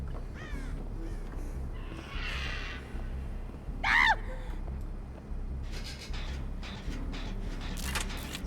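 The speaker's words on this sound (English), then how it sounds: "Someone screamed." A scream rings out in a horror survival game, a sharp, brief cry near the middle over a murky, rumbling background, with scattered harsher sounds around it.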